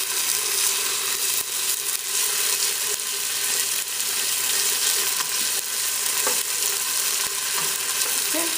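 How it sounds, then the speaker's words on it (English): A continuous sizzle of tomato paste frying in a hot pan, with occasional soft stirring scrapes and small pops, steady and close. "I like frying my tomato paste until it changes color"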